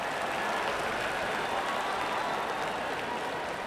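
A cricket stadium crowd roars and applauds after a wicket falls, a steady, broad wash of cheering with no break.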